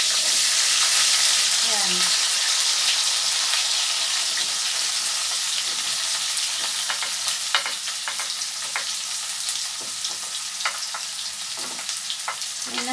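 Chopped onion sizzles in hot oil for a native chicken dish cooked Indian style, a loud, continuous hiss with occasional stirring clicks and a brief spoken word early on.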